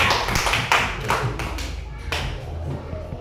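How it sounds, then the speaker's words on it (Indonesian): A short burst of uneven clapping from a small group of children, several pairs of hands slapping together briefly, close by. "tepuk tangan dong untuk semua"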